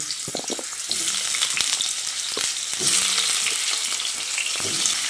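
Chopped pumpkin frying in hot mustard oil in a kadai, a loud, continuous crackling sizzle with occasional clunks and spatula knocks, close and without talk.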